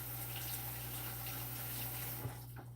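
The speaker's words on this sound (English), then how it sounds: "Let me wash my hands real quick" Water runs steadily from a kitchen tap while someone washes their hands, giving a continuous, moderately loud hiss and splash that thins out briefly near the end, with no talking.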